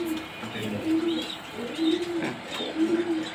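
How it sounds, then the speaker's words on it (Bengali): A large red checker racer pigeon coos while held in the hand, giving three low, throaty coos spaced about a second apart over faint background noise. "এই যে আমরা কবুতরটা ধরে দেখাচ্ছি"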